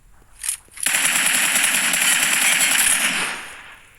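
Magic Bolt gunfire in a mobile shooter game: a short shot, then a sustained rapid automatic burst lasting about two seconds before it cuts off and fades, loud and dense.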